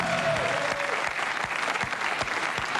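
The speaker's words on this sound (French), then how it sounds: "Il s'agit pour le premier invité de Cher, mesdames et messieurs, qu'on peut applaudir." A French TV studio audience applauds a guest on a talk show, loud sustained clapping filling the room with a few sharper individual claps standing out.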